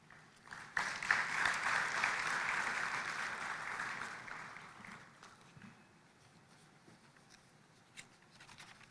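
Audience applause at the COMESA Business Forum in Nairobi swells quickly, holds for a few seconds as steady clapping, then fades away to near quiet with a few scattered claps.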